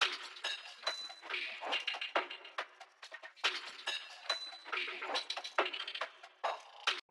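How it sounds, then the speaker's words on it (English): Quiet, crisp percussion loop of clicks, taps and rattles in a repeating rhythm, bright and thin, with no other instruments. "I also added a percussion loop"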